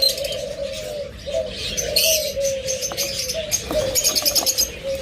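Caged lovebirds and budgerigars chatter and chirp with busy high twittering, over a steady cooing drone and occasional wing flutters, close and fairly loud.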